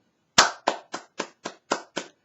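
Seven sharp hand claps ring out alone in a steady, slightly uneven rhythm, each a crisp close slap with a quick decay, against a silent background.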